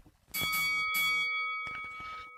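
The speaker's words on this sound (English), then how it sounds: "as the bell rings" A wrestling match bell in the Second Life video game rings in a few loud, clear metallic strikes with long ringing tones that sustain and fade, heard alone.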